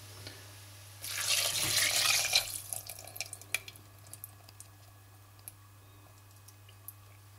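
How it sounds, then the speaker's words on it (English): Homemade chicken stock poured into a pot of winter vegetables for soup, a steady liquid rush lasting about a second and a half, then tapering into scattered drips and small clicks over a low steady hum. "to this you now need to add the chicken stock which you just prepared"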